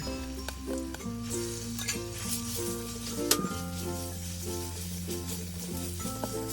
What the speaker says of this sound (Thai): พอหอมที่เราเจียวเอาไว้มีสีเหลืองทอง แล้วก็ใส่กระเทียมพริกไทยที่เราตำเอาไว้ได้เลยค่ะ